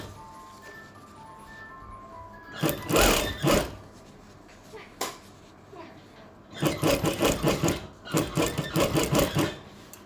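A sewing machine stitching around the edge of a baju kurung, running in short whirring bursts separated by pauses, with faint speech at times.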